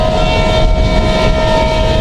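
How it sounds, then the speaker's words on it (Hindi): Rajdhani Express push-pull train, Central Railway service, running through Mathura station without stopping: a steady loud rumble of wheels and carriages with a sustained tonal hum, heard from on board. "अभी हमारी ट्रेन मथुरा स्टेशन को स्किप कर रही है।"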